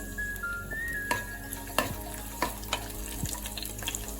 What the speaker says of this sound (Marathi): गार्लिक छानपैकी रोस्ट करूया.